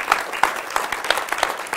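A church congregation claps hands in praise, a dense burst of many hands that runs about two seconds, loud and close, with a faint murmur of voices.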